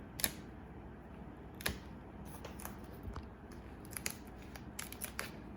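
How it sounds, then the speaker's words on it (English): Scissors snip notches into a plastic binder piece for a laptop keyboard cover, giving a series of sharp, close, irregular clicks and cuts over a quiet background. "I'm going to notch this just a little bit more to make it a little bit easier"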